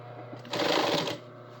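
A sewing machine stitches thin fabric briefly, a short burst of rapid mechanical clatter rising over a steady low hum, then settling back.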